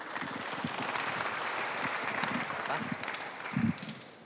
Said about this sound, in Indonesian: Tepuk tangan untuk Putri Mumpuni.